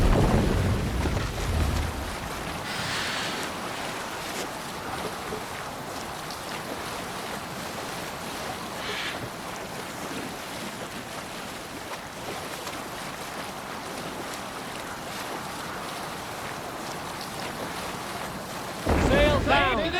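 Viking longship under sail at sea in Assassin's Creed Valhalla: continuous wind and rushing water with waves against the hull, a steady broadband wash throughout, with a few faint knocks and a louder gust near the end.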